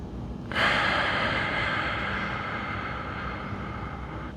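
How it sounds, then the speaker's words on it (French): A long, steady exhalation during a stretching exercise, a broad airy rush that starts abruptly and holds at an even level for several seconds, close to the microphone with no talking. "Je viens faire 2 respirations complètes."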